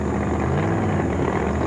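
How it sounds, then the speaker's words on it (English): Supercharged Pro Mod drag race cars roar loudly and continuously as they launch, a dense, steady engine blare with no break. "Distinctive engine note from the supercharged cars"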